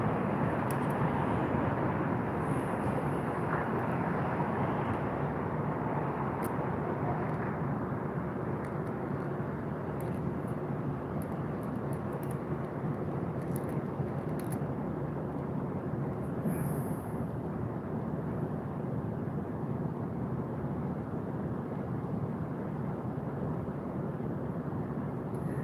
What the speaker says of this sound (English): Sounds like trains.